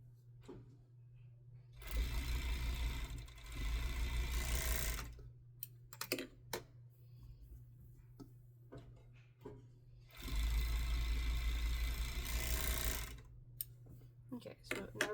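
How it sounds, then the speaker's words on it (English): Sewing machine stitching two fabric pieces right sides together runs in two bursts of rapid whirring, each a few seconds long, with quiet handling noises and a faint hum in the pauses, up close. "I'm going to sew here and here."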